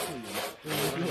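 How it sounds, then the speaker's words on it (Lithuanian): An old historical hand saw cuts through wood in steady back-and-forth rasping strokes with a brief pause between them, close and fairly loud, with no talk over it. "Čia toksai istorinis pjūklas."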